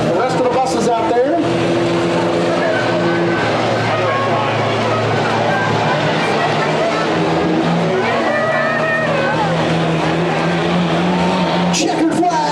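Old school buses race around a dirt track, engines roaring and revving in heavy, continuous drone with passing pitch shifts and tire noise, loud and close throughout, with a commentator's voice over the racket.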